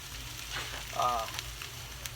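Butter and oil sizzle on a Blackstone flat-top griddle where pork chops are being cooked, a steady soft frying hiss with a brief louder flare near the middle, fairly quiet and with no talking.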